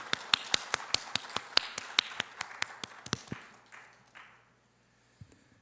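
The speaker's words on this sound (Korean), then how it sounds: "우리 하나님께 영광의 박수로 올려드리십시다." Church congregation at a Sunday worship service in Gunpo, Korea claps in unison: a steady, rhythmic run of sharp, close handclaps that fades out after about three seconds into near silence.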